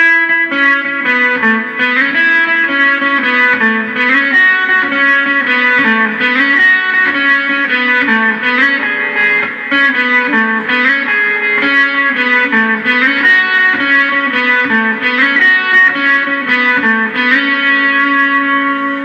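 An electric guitar plays a looping melodic riff with effects, notes ringing into each other with a shimmering, slightly distorted tone.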